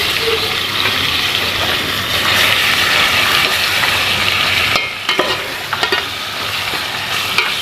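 Chicken frying with garam masala in a pan, stirred steadily; a loud continuous sizzle with scraping stir strokes, easing slightly near the end as ingredients shift.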